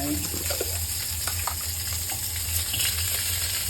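Fermented red bean curd sauce is poured into a hot pan, giving a steady sizzle with soft liquid splashes and light stirring clatter, close and moderately loud.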